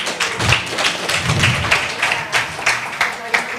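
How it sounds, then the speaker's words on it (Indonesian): A crowd at a debate event applauds with loud, rhythmic claps in a regular beat, close and punchy, with a voice briefly heard alongside. "Kita tepuk tangan sekali lagi."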